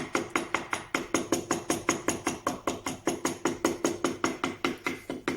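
Rapid, steady chisel taps while carving letters into an oak bread board, about four crisp knocks per second, close and even throughout, with no talking.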